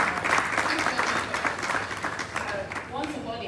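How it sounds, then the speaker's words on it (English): An audience at the 2024 Nigerian Oil and Gas Energy Week conference gives a round of applause, dense steady clapping throughout with some voices mixed in. "I think they deserve a round of applause."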